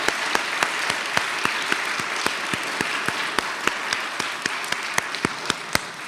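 A chapel audience gives a round of applause for a singer: steady, dense clapping from a sizeable crowd with a few sharper close claps standing out, fairly loud and continuous throughout.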